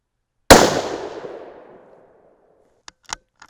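A single sharp 6 PPC rifle shot firing a 68-grain Bart's Ultra bullet over N133 powder, cracking loudly and ringing out in a long fading tail, followed by a few faint small clicks.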